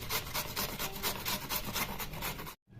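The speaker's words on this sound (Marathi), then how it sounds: "पूर्ण असं गोल गोल फिरून गाजर किसून घ्यायचं" Carrot being grated by hand for halwa, a rapid rhythmic rasping with repeated scraping strokes up close, stopping abruptly at the end.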